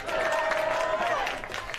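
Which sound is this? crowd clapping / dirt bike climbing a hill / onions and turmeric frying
crowd clapping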